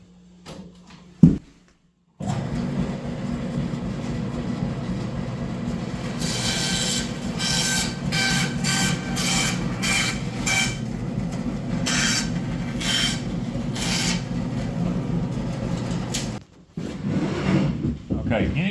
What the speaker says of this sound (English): Use our bandsaw here.